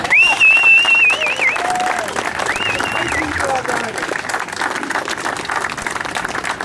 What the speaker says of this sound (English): A nice round of applause to the Love and X Motorcycle Club and also the American Legion riders that are here with us